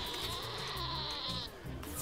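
A goat bleats in the video game Plants vs Zombies Garden Warfare 2, a wavering nasal cry over steady game background sound with a thin high tone.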